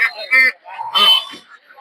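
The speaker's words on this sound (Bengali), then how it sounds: "দেখতে পাচ্ছেন এদিকে হচ্ছে বেলজিয়াম হাঁস" Belgian ducks at a village poultry market in Puthia give a few short, close, honking quacks in quick succession, loud and nasal over a quiet background.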